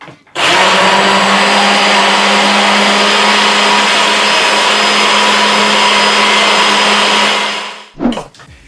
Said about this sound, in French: si vous avez un mixeur à soupe, eh bien vous allez le mixer